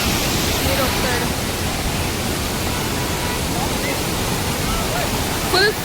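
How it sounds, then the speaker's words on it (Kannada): Honnamma Falls, a waterfall running at full force, gives a loud, steady broadband roar throughout, with faint voices buried in the rush and a brief louder burst near the end. "ಹೊನ್ನಮ್ಮ ಫಾಲ್ಸ್."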